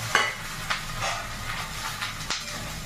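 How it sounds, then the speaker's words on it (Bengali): Green chilies tempering in hot oil in a wok give a steady close sizzle and hiss, broken by a few sharp scrapes of a spatula stirring at uneven intervals. "জাস্ট খালি কাঁচা লঙ্কা ফোড়ন দিয়ে ভাজাটা করবো"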